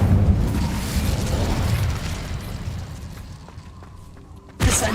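Incendio fire spell cast in Hogwarts Legacy: a dense, roaring whoosh of flame that slowly fades over several seconds, then a sharp new burst of sound right at the end.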